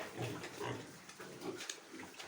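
Pigs grunting on a farm, low irregular grunts and snuffles at close range amid a noisy, rustling background.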